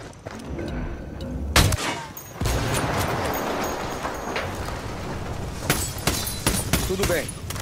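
Gunfire in the Ghost Recon Wildlands video game: several sharp loud bursts and shots cracking out over a busy combat din, with people talking throughout.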